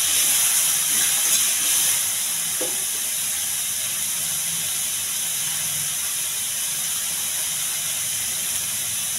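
Cauliflower and green chillies fry in a pan with a steady broadband hiss and sizzle, a little louder for the first two seconds, then an even, continuous crackle with no talking.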